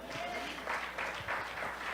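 A church congregation claps for God in brief, moderate applause at a Spanish-language service, with a voice audible beneath the clapping.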